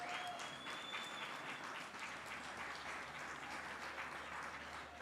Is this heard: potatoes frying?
no